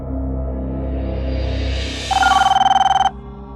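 A telephone rings in one short, loud burst of bright electronic pulses lasting about a second, after a low rumbling indoor background with no talking.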